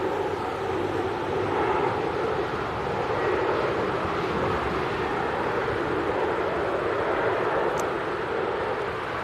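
A Ryanair passenger jet coming in to land near an airport in Denmark, a broad steady rumble and hiss of engines that stays fairly loud throughout, with no one speaking.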